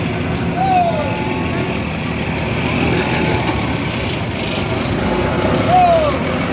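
A truck rolls along a road from Pariaman toward Jakarta, its engine a steady low rumble with faint high squeals, while someone talks over it.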